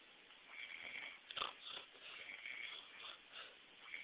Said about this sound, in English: And that snore is keeping me up.